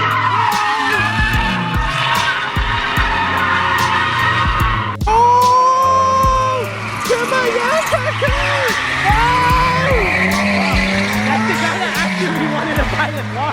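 A drifting car squeals its tires in long, wavering screeches over a revving engine, loud and close, while people talk and shout over it.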